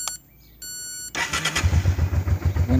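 A Revere 650cc motorcycle engine starts: after electronic beeps and a starter whine, it catches and settles into a loud, close, pulsing idle with a regular low thump.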